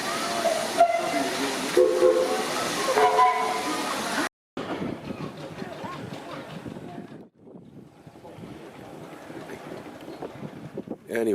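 A steam train at the Beamish heritage railway, with a steam whistle sounding over a broad hiss and rumble, then a break into quieter chuffing and wind-like noise outdoors, no talk.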